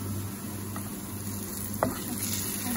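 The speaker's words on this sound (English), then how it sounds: "we're going to fry this for about a minute" Chopped onion with dhania, chilli and turmeric frying in a pan for a prawn bhuna, giving a steady, close sizzle with a brief stirring scrape partway through.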